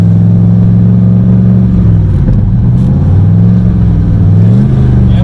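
A car with a broken stock manual transmission revs hard in third gear, the engine droning loud and steady with rising and falling pitch throughout.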